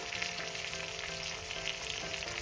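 Chopped tomato and onion with salt and turmeric fry in hot oil in a pan, giving a steady, close crackling sizzle with no voices over it.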